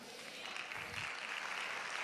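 Church congregation applauding together, a steady wash of clapping from many hands filling the room for the full stretch, no voices standing out.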